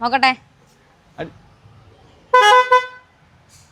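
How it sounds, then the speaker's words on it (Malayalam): A custom horn on a Maruti Suzuki Swift car sounds in two bursts, a brief toot and then a longer, loud tonal honk, with a short spoken word before it. "ഇതിന്റെ ഹോൺ ഒരു വെറൈറ്റി അല്ലേ?"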